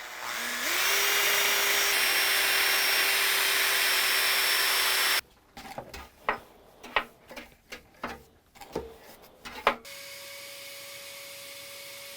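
An engine piston head being sandblasted, a loud steady hiss of blasting air for about five seconds that cuts off, then a run of irregular knocks and taps of handling the part.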